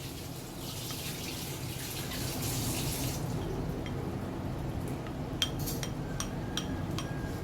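Sosis solo, Javanese rolled sausages, going into hot oil, a steady broad hiss and sizzle with a few small pops and clicks toward the end.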